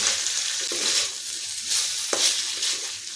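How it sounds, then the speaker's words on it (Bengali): Marinated chicken pieces with soy sauce frying in hot oil in a pan for chilli chicken, producing a loud, steady sizzle with occasional stirring scrapes and one sharp tap of a utensil. "চিকেনটা খুব ভালো করে ভেজে নিলাম"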